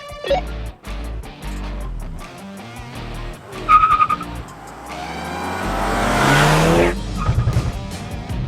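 Honda Prelude launching hard off the line in a drag race, engine note climbing from idle into a loud revving surge with a brief stumble and some tire noise, fading out near the end.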